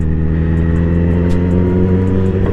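A Honda CBR 1000cc motorcycle idles with a steady, loud engine hum close by, held at light throttle without sharp revs and with no voices.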